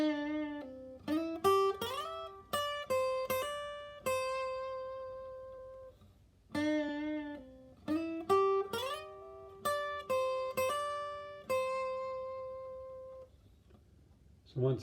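An electric guitar plays a solo phrase of clean single notes with slides up the neck and string bends, in two similar runs separated by a short pause, each note ringing out and fading alone without talk.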